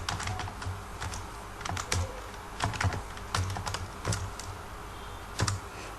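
Close, quiet clatter of a computer keyboard in bursts of keystrokes with short pauses between, including a firmer key press, with no voices.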